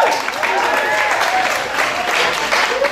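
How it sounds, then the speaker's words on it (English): An audience at a Brighton comedy gig applauds, dense continuous clapping close and loud throughout, with some voices mixed in. "Round of applause for Veronica's ingenuity there."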